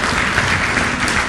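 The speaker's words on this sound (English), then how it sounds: "Can we give her another round of applause" A crowd at an annual lecture applauds a presenter, a loud, dense wash of clapping that holds steady throughout.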